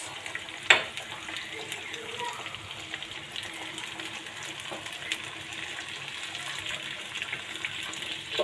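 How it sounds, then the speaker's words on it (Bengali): Spinach and pabda fish curry simmers in a pot with a soft, continuous bubbling hiss, broken by a sharp clink of stirring near the start and a few faint knocks. "আমার পালং শাক এবং পাবদা মাছটা হালকা বলক চলে আসছে একটু নেড়ে দিলাম"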